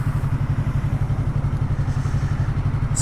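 A motorcycle being ridden, its engine giving a steady, loud throbbing drone with rapid regular pulses throughout, no talk over it.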